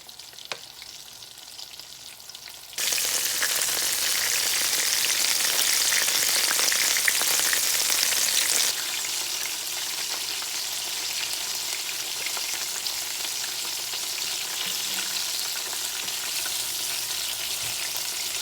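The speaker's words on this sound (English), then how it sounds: "It'll only take around 6 to 7 minutes to have that okra fried up and crispy." Okra frying in a skillet in a small uncrowded batch, a loud steady broadband sizzle that jumps up sharply after a quieter start, then settles slightly lower and continues evenly with no talk.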